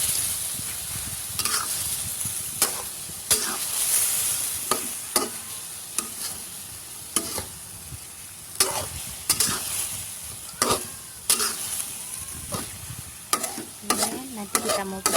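Glutinous rice being stirred with seasoning in a hot pan for chicken glutinous rice, with repeated scraping strokes of the spatula over a steady sizzle, close and fairly loud.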